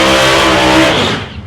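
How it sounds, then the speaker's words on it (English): Race car powered by a 423 cubic inch Ford engine revs hard at close range in a single loud, sustained burst at a speedway during qualifying, fading slightly at the end. "Greuter's car, 423 cubic inch Ford, he has got that thing singing"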